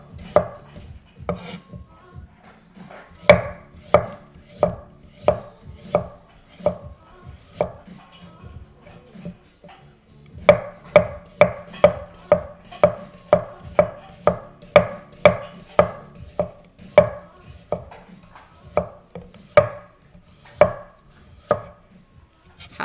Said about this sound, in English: How aggressive does this chopping sound right now for you guys?